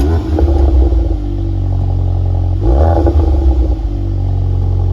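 A loud 2025 VW Golf R Black Edition with Akrapovic exhaust rumbles steadily up close, its exhaust note rising briefly in a rev midway before settling back.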